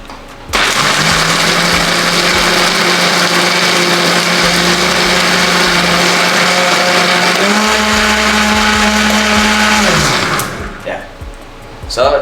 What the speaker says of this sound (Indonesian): that's how to use a blender